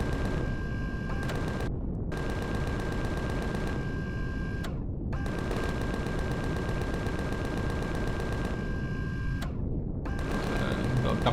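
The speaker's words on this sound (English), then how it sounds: "got a couple of minigun" Minigun fire in the video game Empyrion Galactic Survival, a dense continuous roar of rapid shots that runs almost unbroken, with brief gaps, loud and close throughout.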